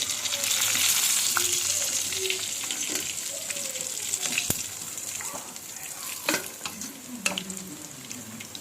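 Chicken fries in oil over a low flame, a steady broad hiss broken by a few sharp clinks of a utensil against the pan and a faint voice in the background.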